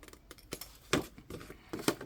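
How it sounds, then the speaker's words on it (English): Scissors snip small paper squares for a scrapbook album, producing a few quiet, close, irregular cutting clicks. "Just going to cut out our little squares"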